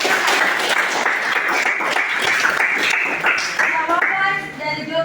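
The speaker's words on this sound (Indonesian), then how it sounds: "Oke, kita berikan aplaus." A classroom of students claps together for a classmate's answer, the loud ragged clapping running steadily before thinning out as voices come in near the end.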